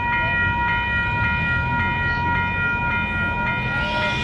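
A Durango & Silverton narrow gauge steam train passes close by, loud and sustained, with a steady, multi-toned whistle-like drone over rhythmic rumbling beats of the cars rolling along the rails.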